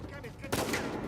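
Gunfire in the video game Uncharted 4: a sudden loud burst of shots erupts halfway through and rolls on to the end, following quieter game sounds.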